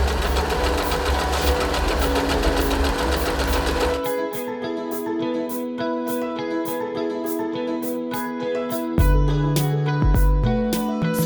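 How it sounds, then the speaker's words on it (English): An Usha Empress sewing machine runs with a steady mechanical whir and rapid needle ticking, its pitch and pace shifting as the speed changes, close and clear with no talking. "The faster you run the pedal, the faster the machine runs."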